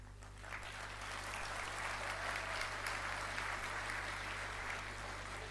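Applause from an audience at an Urdu poetry event in Dubai rises into a sustained wash of clapping, heard at a moderate distance over a low steady hum.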